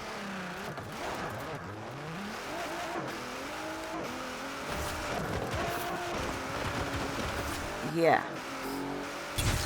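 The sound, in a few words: Hennessey Velociraptor 6x6 truck driving in Forza Horizon 4 video game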